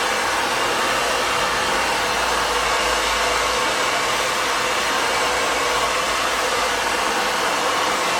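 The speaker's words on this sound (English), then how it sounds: "You don't want the blow dryer like this, you want it to go the direction of the hair." A hair dryer blows continuously at close range, a loud, even whooshing roar with a motor hum underneath and no pauses.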